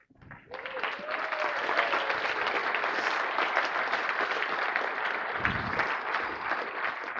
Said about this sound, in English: the next people that need a large thank you and a big round of applause